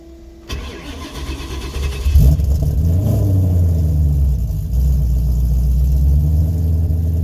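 A Ford Fairmont with a swapped Coyote V8 cold-starts: the starter cranks briefly, then the engine catches with a rising roar and settles into a loud, deep, steady idle close by.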